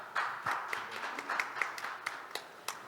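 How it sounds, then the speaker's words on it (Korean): A small audience at a disability forum round-table claps faintly to welcome a panel member, a short patter of scattered, distant hand claps at moderate pace. "소개될 때마다 박수로 환영해 주시면 감사하겠습니다"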